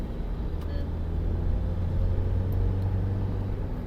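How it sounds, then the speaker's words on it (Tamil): An 8-seater car accelerating in second gear: a steady, loud low engine drone and road rumble heard from inside the cabin, holding level throughout. "அப்படியே செகண்ட் கியருக்கு மாற்றிட்டு புஷ் பண்ணுறேன்"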